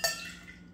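Vodka poured into a metal cocktail shaker while mixing a Kamikaze: a single short, splashy liquid burst that fades quickly, heard close and alone.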